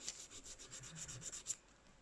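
Soft, repeated scratchy strokes of sandpaper rubbing ceramic and Milliput putty, close and quiet, in a quick steady rhythm before stopping.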